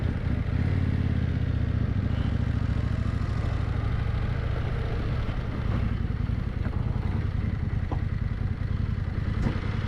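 New Indian Scout 101 motorcycle being ridden, a continuous low engine rumble with wind and road noise, steady and fairly loud for the whole stretch.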